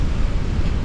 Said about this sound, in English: It's very windy where it's coming towards this way